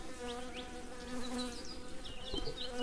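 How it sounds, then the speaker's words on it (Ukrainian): Diploid honeybee drones buzz close by at an open beehive, a dense, continuous droning hum with wavering pitch and a few louder passes as individual bees fly near. "Трутні, диплоїдні."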